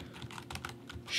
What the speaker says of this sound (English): I'm gonna get the exact name of the key I'm pressing on the keyboard